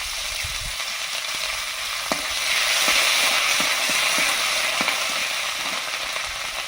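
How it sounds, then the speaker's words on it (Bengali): Whole garam masala, turmeric and ginger sizzle steadily in hot oil, a bright continuous crackle with a few sharp pops and light stirring clicks, close up and with no talk. "তেলে গরম মশলা দিয়েছি, গোটা গরম মশলা, হলুদ, আদা"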